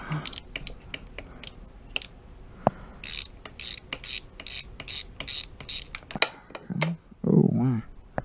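A ratchet clicks in quick bursts while loosening the head bolts on a 90hp Johnson outboard, close and crisp with short pauses between strokes, and someone talks near the end.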